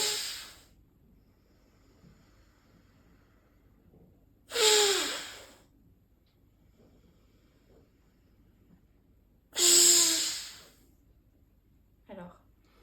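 Loud nostril breathing in pranayama practice, the elephant-style breath, with three strong hissing breaths spaced several seconds apart and a softer short one at the end, close and alone in a quiet room.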